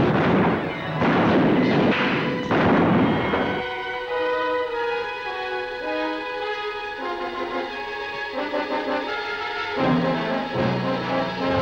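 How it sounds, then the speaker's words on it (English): Artillery fires in the 1952 western Hellgate, a cluster of heavy, close blasts over the first few seconds. The shots then give way to a sustained orchestral score. "Commence firing!"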